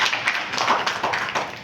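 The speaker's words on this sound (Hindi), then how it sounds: "ये आप इसके लिए जोरदार ताली बजा सकते हैं।" An audience at a Mi Life Style Marketing Global business plan presentation breaks into applause, a dense spread of hand claps sustained for under two seconds and fading slightly at the end, with faint voices underneath.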